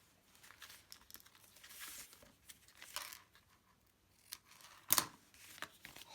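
Scissors trim a paper card, giving soft snips and light paper crinkling, with one sharper cut standing out near the end; the sounds are close and quiet.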